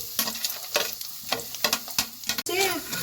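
Dry dates (chhuara) sizzle and fry in oil while a spoon stirs them in regular scraping strokes, close and steady.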